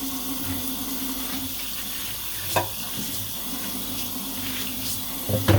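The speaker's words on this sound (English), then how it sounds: "Now I'm getting all the shampoo out, and it's not shedding at all" Water runs steadily from a tap while shampoo is rinsed out of a bleached lace wig, a constant hiss and splash close by with a few brief thumps.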